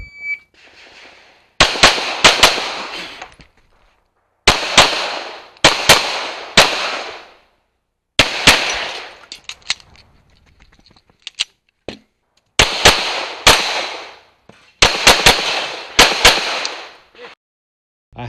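A pistol fires sharp, loud shots in quick pairs and short strings during an IDPA shooting match stage, with brief gaps between groups as the shooter moves through the course.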